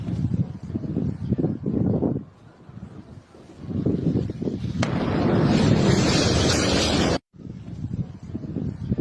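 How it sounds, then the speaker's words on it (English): A missile strike explosion in the Middle East, captured in news footage: a rumbling blast swells into a sustained, loud, broadband roar with heavy wind buffeting on the microphone, then the sound cuts off abruptly. "I want you guys just to see how large this explosion is."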